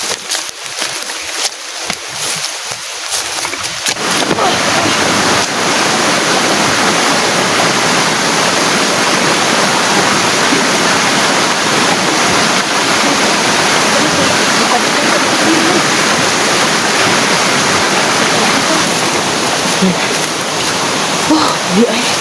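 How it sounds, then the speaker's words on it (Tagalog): A creek rushes loudly and steadily, its flow swelling after a quieter first few seconds and then holding as a dense, close water roar; voices can be heard talking over it. "Tatawid pa kami ng sapa."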